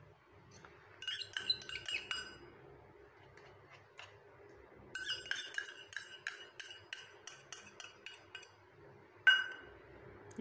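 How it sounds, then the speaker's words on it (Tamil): Spoon clinking and scraping against a bowl while coffee powder is stirred into hair conditioner, heard in two bursts of quick, close, rhythmic taps with a sharper knock near the end and no talk. "இப்போ இதை நல்லா வந்து கலந்து விட்டுருங்க."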